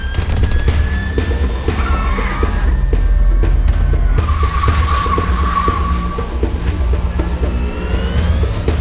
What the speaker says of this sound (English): Sound design on those cool futuristic vehicles.